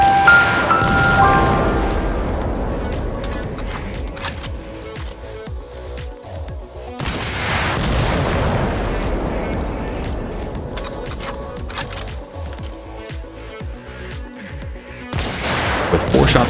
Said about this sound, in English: Now for the TBG-7V thermobaric warhead.